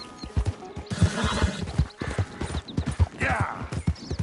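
A horse gallops in Red Dead Redemption 2 with loud, close rhythmic hoofbeats and a whinny, the clattering gait steady and driving, while a voice speaks briefly.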